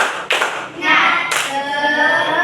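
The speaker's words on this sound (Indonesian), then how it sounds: "Tepuk semangat" Children in a classroom clap together in a rhythmic class chant, a few sharp, loud clap bursts in a patterned beat, with young voices chanting along between them.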